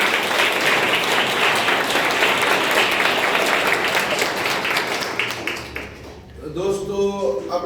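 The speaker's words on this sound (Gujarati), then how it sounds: "આપણે સૌ તેમનું તાળીઓથી સ્વાગત કરીએ" A crowd at a community institution gathering applauds to welcome a visiting family, with loud sustained clapping that tapers off near the end before a voice begins speaking.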